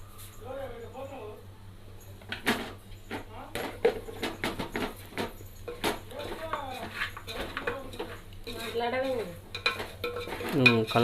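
Spoon scraping and stirring mutton curry in a pan, a steady run of close metallic scrapes and clinks under near-constant talk from a woman and a child, with a low hum throughout.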